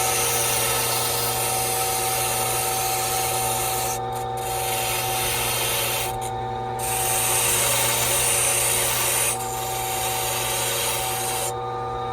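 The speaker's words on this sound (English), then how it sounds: "I'm gonna buff it perpendicular to the buffing wheel" A newly cut Ford key held against a spinning buffing wheel on a Silca key cutting machine, a steady rubbing whir with the motor hum underneath and brief dips where contact eases, continuous and close.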